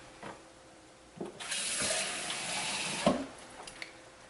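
Tap water running into a pot for broccoli soup, starting after a few light clanks and flowing as a steady hiss for about two seconds, ending with a small clatter; fairly faint and close.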